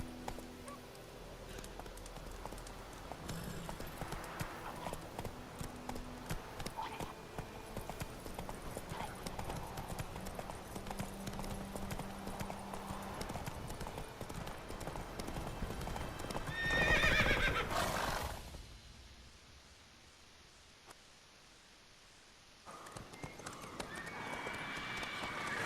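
Roach the horse in The Witcher 3 gallops with rapid, continuous hoofbeats and snorts and whinnies, the sound staying loud and steady until a sudden fade into near silence, then the hooves resume briefly.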